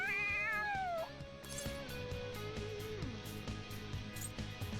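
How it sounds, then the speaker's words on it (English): A cat in the video game Persona 5 lets out a couple of rising and falling meows at the start, then a steady game music track carries on beneath it. "The cat's acting awfully excited."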